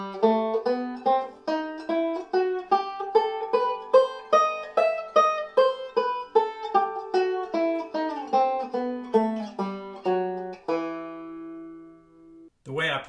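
A harmonic minor scale with flatted third and sixth and raised seventh, plucked note by note in a steady even rhythm, climbing then descending, ending on a held note; clear, close and unaccompanied.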